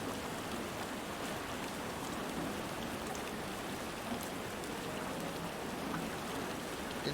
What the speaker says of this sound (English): There's something just relaxing about rain sounds.